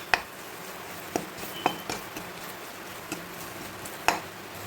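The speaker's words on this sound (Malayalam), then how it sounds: "2 മിനിറ്റ് ഇങ്ങനെ വാട്ടി കൊടുക്കാം" Spice masala for an egg masala being sautéed in a pan, a soft sizzle running throughout with a few sharp clinks and scrapes of a spoon against the metal, spaced irregularly and close by.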